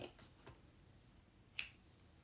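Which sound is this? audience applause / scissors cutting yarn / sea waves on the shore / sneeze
scissors cutting yarn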